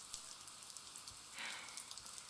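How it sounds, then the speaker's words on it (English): Rain falling steadily, a dense soft hiss of drops pattering on a surface with scattered louder taps, faint and continuous with no voices. "Wish it would stop raining."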